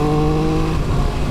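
A Triumph Speed Triple RR motorcycle engine hums steadily, then its tone drops and roughens as it downshifts into first gear. The engine is close and loud, with no voices.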